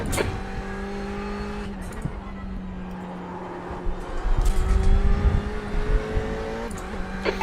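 GT race cars in a multiclass racing game at Monza, engines droning steadily with a faster group rising and roaring past midway, then settling back to a constant hum.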